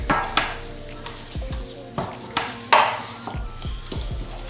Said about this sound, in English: get your hands in there, mix everything around, get that flavor on all sides of your turkey necks